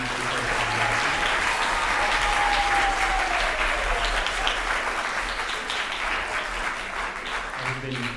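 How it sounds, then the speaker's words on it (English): Audience applause at a middle school orchestra concert, honoring the stage crew: steady, dense clapping from a large crowd that fills the whole stretch at an even loudness. "applause for our stage crew tonight."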